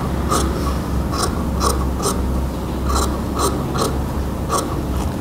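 Scissors snip through shirt collar fabric during sewing, giving a series of sharp, close metallic cuts at an uneven pace over a steady low background hum.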